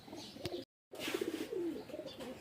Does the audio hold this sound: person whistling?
no